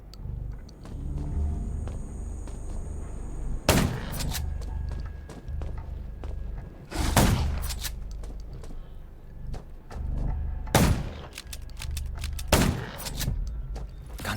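Gunshots in the Undawn video game: several sharp, loud single shots spaced a few seconds apart over a steady background drone of game ambience.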